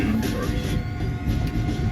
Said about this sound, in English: This is a Manhattan-bound 1 train.